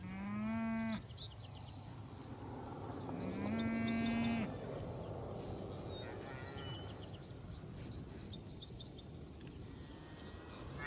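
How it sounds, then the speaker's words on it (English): Cattle graze a pasture after drought and soaking rain, with two long moos, one near and one overlapping, then fainter distant lowing, all over a steady chorus of crickets. "There's a calf over there running down the fence line on the wrong side of the fence."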